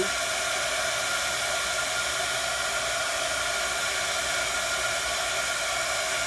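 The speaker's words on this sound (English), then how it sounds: "So I'm going to heat emboss the whole thing." A handheld heat tool for embossing, warming embossing powder on a stamped card, blows with a steady, loud, unbroken whoosh like a hair dryer, close to the microphone and alone, without any talk.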